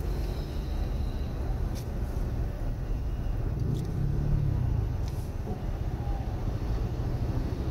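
Steady low road rumble and engine hum inside a car driving through slow holiday traffic near a church in Muzon, constant and moderately quiet with no talking.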